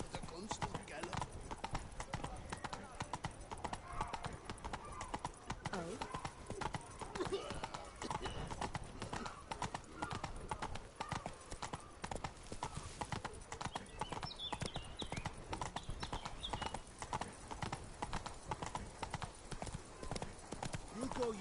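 Hooves clip-clop in a steady galloping rhythm as a horse is ridden in a PS4 video game, close and continuous over game sounds, with brief whinnies and talking throughout.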